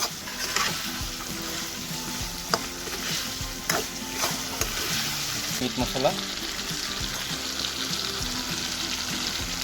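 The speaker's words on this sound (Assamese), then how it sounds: "আৰু মাংসটো ভালকৈ লৰাই দিয়ে।" Chicken meat being stirred as it fries over high gas flame in a pan with curry leaves and meat masala, scraping stir strokes over a steady close sizzle, loud and continuous.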